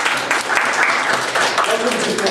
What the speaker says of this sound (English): if we could have a round of applause for Leanne